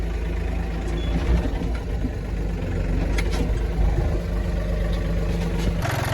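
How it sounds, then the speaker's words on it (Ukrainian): A tractor engine running steadily during potato weeding, a continuous mid-pitched engine drone close by with small rattles and clanks over it. "Здається, той самий трактор, але по-інакшому управляється."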